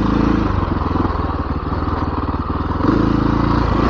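Dirt bike motorcycle ridden on a loose-dirt trail in the Rampart Range, close, loud engine with rapid pulsing rhythm and varying throttle throughout.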